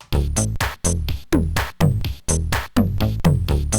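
A rudimentary Protracker drum beat with claps: punchy sampled kicks and snappy claps repeating in a steady loop, about eight evenly spaced hits, loud and close with no voices.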